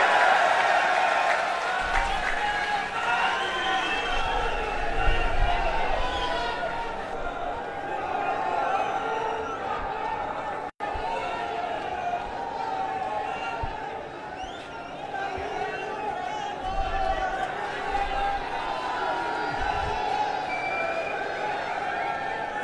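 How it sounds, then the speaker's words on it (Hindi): A large outdoor crowd at an Aam Aadmi Party election rally in Ganganagar, Rajasthan applauds and cheers for Arvind Kejriwal. The clapping is broad and sustained, with crowd noise and a voice over a loudspeaker mixed in. "जोरदार तालियां अरविंद जी के लिए।"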